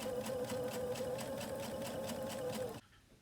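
A sewing machine runs steadily, stitching a 1/4 inch quilt seam with a fast, even whirring rhythm, close and alone, then stops abruptly near the end.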